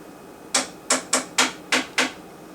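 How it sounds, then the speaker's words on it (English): Six sharp, close knocks on the aluminum back panel of a Sharp TV, struck at an uneven quick pace with short gaps between them and no talking. "I'm going to tap on the back of this on that aluminum piece that I pointed to"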